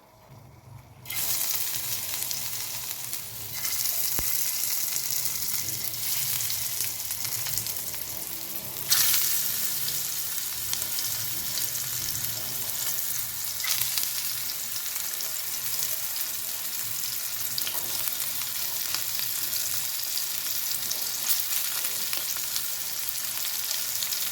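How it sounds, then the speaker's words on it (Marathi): Bitter gourds sizzle and crackle in hot oil, a steady loud frying hiss with occasional stirring sounds, no voices. "तेल चांगलं तापलं आहे आता कारले आपण सर्व टाकून देणार आहे"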